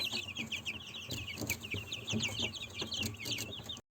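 A flock of roosters and chickens clucking and chattering near the listener in a busy, overlapping stream of short calls, broken by a few soft thumps before cutting off abruptly.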